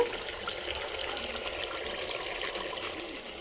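Water is poured steadily into a pan of cooking mutton, a continuous close pouring splash lasting a few seconds with no voices.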